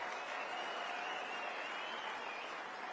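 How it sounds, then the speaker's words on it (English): Steady applause from an audience at a political conference speech, a continuous even patter of many hands clapping, moderately distant, with no voices over it. "So I want a round of applause for the Epoch Times."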